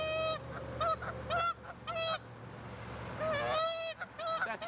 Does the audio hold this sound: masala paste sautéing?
no